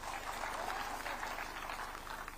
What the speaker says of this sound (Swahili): Wapigie makofi hao watu